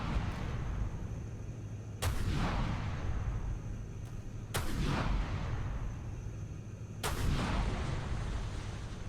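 In the ShipCrafter video game, turrets fire at a ship: three heavy booming shots spaced a few seconds apart, each with a sharp crack and a rumbling tail, over a constant low background roar. No speech.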